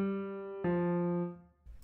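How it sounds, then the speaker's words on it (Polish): A piano sound loaded in FL Studio strikes twice, one sustained note or chord and then a fresh attack that rings and decays. Both are close and clear, and a brief unrelated noise follows at the end. "Pierwszym jest pianino, które brzmi tak."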